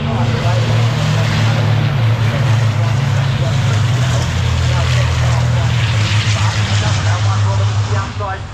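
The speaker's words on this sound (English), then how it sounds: "Ryan Smith unleashes his Daimler Freightliner" Daimler Freightliner racing truck engines roaring steadily at Brands Hatch during a British Truck Racing Championship race, a loud sustained drone with wind noise on the microphone and a commentator talking over it.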